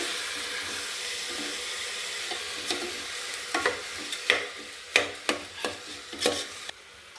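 Methi rice is stirred and mixed in a hot pan over a soft sizzle. A run of sharp, rhythmic scraping knocks from a spoon against the pan grows more frequent toward the end.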